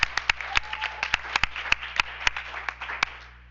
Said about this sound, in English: Okay, let's give them a round of applause.